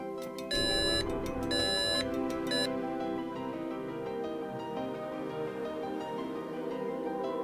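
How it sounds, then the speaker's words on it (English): A homemade alarm clock rig starts with a few bursts of high electronic beeping, then settles into a steady mechanical whirring and ringing hum that carries on alone at even loudness throughout. "That's how my alarm clock works."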